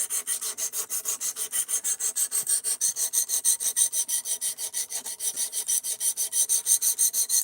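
An Ozark Trail knife is sharpened with steady, rhythmic rasping strokes, roughly three or four per second, close and even throughout with no voices.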